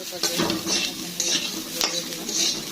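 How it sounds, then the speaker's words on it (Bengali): Onion, garlic and potato pieces fry in an oiled pan as a spatula stirs them. Rhythmic scraping strokes ride over a steady, close sizzle. "আলুর সঙ্গে পেঁয়াজ রসুনগুলো খুব ভালোভাবে লাল লাল করে ভেজে নেব।"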